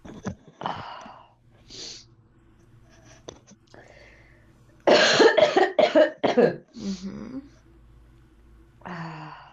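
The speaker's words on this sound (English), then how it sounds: "What's happening with your throat that's causing it to cough?" A burst of harsh, rapid coughing, several hacking coughs in a row, close and loud, preceded by quieter breaths and throat sounds.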